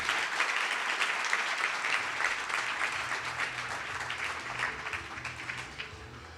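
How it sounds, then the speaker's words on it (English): Sustained audience applause at a Philadelphia Citizen of the Year awards ceremony, a dense wash of many clapping hands that stays loud throughout and eases slightly toward the end. "Please give him another round of applause."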